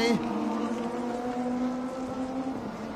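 Touring race cars at full throttle in a Thailand Super 2000 Touring Car round, a steady loud engine drone with a gear-change dip at the start, under continuous race commentary.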